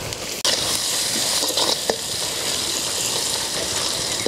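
Onions and curry leaves sauté in a pan for Batticaloa-style dal rice, a loud steady sizzle running throughout with a sharp clatter near the start and light stirring scrapes.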